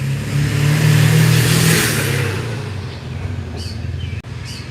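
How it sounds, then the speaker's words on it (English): Big truck passing by on a road, a loud engine rumble that peaks early and slowly fades as it moves away, with a brief dip near the end. "here comes a big truck"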